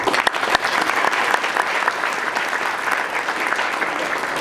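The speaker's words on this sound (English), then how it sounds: "Another round of applause" An audience at a recognition event gives another round of applause, sustained mid-level clapping with a few sharper claps near the start, steady to the end.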